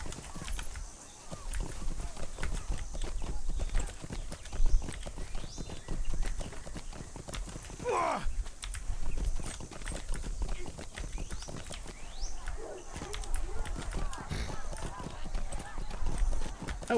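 Steady clip-clop of horse hooves while riding in the video game Lord of the Rings Online, a continuous trotting rhythm that runs under a voice talking, with game ambience behind.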